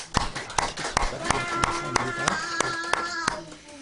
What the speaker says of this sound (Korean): 목사님 빨리 또 더 완전하게 쾌유되기를 바라면서 그렇게 박수로 한번 예